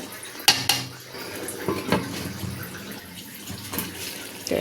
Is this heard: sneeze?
no